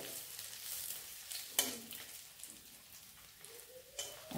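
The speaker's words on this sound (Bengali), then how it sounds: "এই পোহাতে কিন্তু কারি পাতার এই ফোড়নটাও দিতে হবে। একটু তেলে ভেজে নিই।" Curry leaves fry in hot oil for tempering, giving a soft, continuous sizzle and crackle with a couple of sharper pops and stirring sounds, quiet and close.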